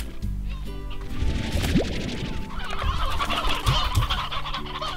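Chickens cluck in the farming game Slime Rancher, a busy, overlapping run of clucks and squawks with a low hum beneath, no talk over it.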